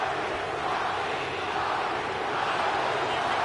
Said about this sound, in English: And this crowd chanting Rocky.